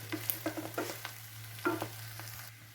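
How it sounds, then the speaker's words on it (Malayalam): Clam meat fries in a pan while a spoon stirs it, making scattered scraping strokes over a soft sizzle and a steady low electrical hum, with no talking. "കുറച്ച് നേരം നന്നായി ഇളക്കണം"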